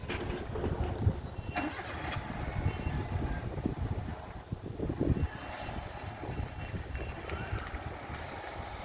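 A car engine pulls away slowly in first gear during a driving lesson, heard as a steady low rumble with some wind noise and a few louder bumps, continuous and close throughout.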